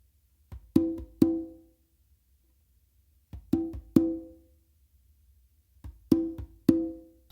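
Congas play a funk 3-in-1 pattern of slaps, fingertip taps and open tones. Three close repeats of the same short figure, each a quick soft tap followed by two sharp ringing strikes, separated by brief silences, with no talking.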